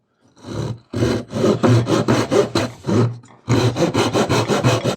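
A hand saw rasps back and forth through a wood block for whittling in steady repeated strokes, loud and close, with a brief pause before the strokes resume.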